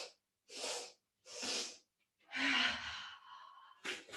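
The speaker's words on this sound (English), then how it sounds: "Exhale through the mouth." Several close breaths during a yoga sequence, soft airy puffs followed by a longer, deeper exhale through the mouth, each separated by short silences.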